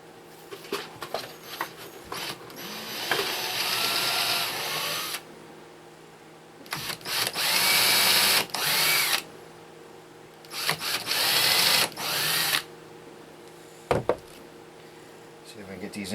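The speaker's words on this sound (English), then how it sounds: "Even the drill is slipping." A power drill whines in several long bursts, spinning loud and close as it drives into very hard pallet wood and slips, with short pauses and faint clicks between runs.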